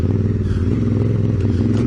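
A Yamaha T7 or Honda Africa Twin adventure motorcycle running with its muffler fallen off, a loud, raw, steady throbbing exhaust heard up close with faint clatter, and no talk.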